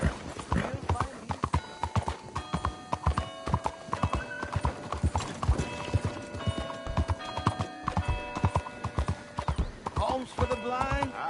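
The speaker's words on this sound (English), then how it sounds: "take care of that horse there." Horse hooves in the video game Red Dead Redemption 2: steady clip-clop of a walking horse with an occasional whinny, under game music and character voices talking.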